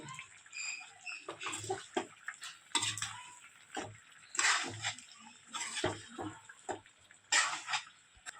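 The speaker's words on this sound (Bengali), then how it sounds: "তিনটে টমাটো কেটে ঢেলে দেবো।" Three chopped tomatoes tipped into a pan while making chicken biryani, giving close, soft pattering and wet tapping in short irregular bursts with brief sizzly hiss.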